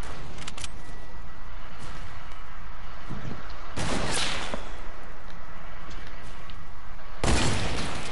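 Sniper gunfire in a video game: two sharp, loud shots about three seconds apart, each with a short rumbling tail, over a steady low background hum.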